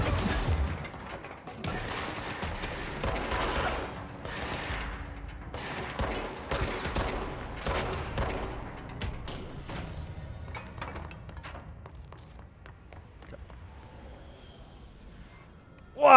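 Enemy gunfire in the video game Control, a dense stretch of rapid shots and impacts that runs fairly steadily for most of the clip and thins out near the end, with no talking.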